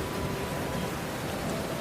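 Cartoon-style rain effect: a steady, even hiss of falling rain pouring down without a break, heard alone with no voices over it.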